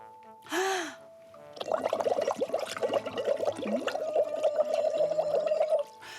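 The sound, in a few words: blowing bubbles through a straw into a bowl of water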